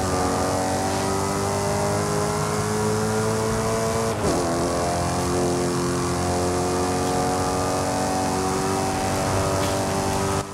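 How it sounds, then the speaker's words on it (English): 2010 Maserati GranTurismo S in Forza Horizon 5, its engine exhaust droning loud and steady with a constant rumbling note and a brief shift-like blip midway, with no talking. "This engine delivers a sonorous exhaust note and robust acceleration."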